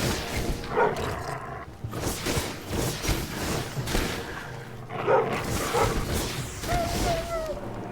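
A hostile dog in the survival video game Enshrouded barks and snarls in several bursts, mixed with game combat effects and background music.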